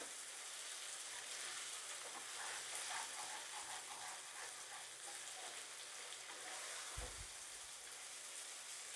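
Steady broadband sizzling of garlic and tomato frying in a pan, a continuous crackling hiss with no voices, and a brief low thump near the end.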